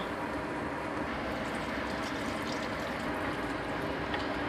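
Steady rushing splash of water pouring into a pot, continuous and close, with no voices.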